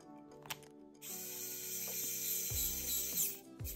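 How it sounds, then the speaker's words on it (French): A small electric screwdriver whirs on a 1/18 scale Traxxas TRX4M rock crawler, with clicks at first, then a sustained high motor whine lasting a couple of seconds, close and fairly quiet. "pratique, hein, les petits tournevis électriques pour vos 1/18e"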